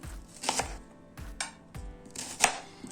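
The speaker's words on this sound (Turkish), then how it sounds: "En sonda kuru soğanlarımızı doğrayalım." A knife chops through a dry onion on a board: a few distinct crisp cuts with solid thuds, spaced unevenly, close up and without speech.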